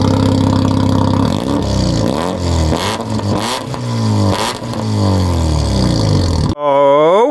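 A Mazda FC RX7 rotary engine runs steadily nearby with a rough, pulsing burble, rising and falling unevenly over several seconds before cutting to a different engine tone at the end.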